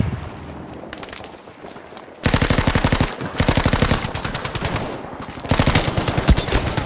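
Sustained automatic fire from a machine gun in Battlefield 5, loud and close, coming in two long rapid bursts separated by a short gap, with quieter background battle noise before the first burst.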